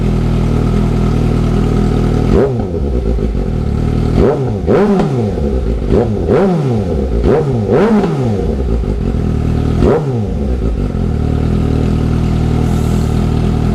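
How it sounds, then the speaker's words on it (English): A 2018 Suzuki GSX-S750 motorcycle fitted with a RadiantCycle GP Shorty exhaust idles loudly up close, then is blipped through about six quick revs that rise and fall, before settling back to a steady idle. "We're gonna give it a little rev and see what it sounds like."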